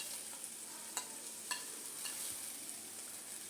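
Chopped beans fry with green chilli in coconut oil, a soft, continuous sizzle heard quietly up close, with a few light scraping stirs.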